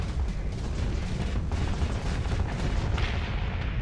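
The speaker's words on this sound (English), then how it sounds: "Eat some torpedoes. Eat some torpedoes. There we go. Torpedoes." Torpedoes striking ships in the space combat game Starsector, a dense, continuous roar of explosions and booms, loud and close, with a brighter blast near the end.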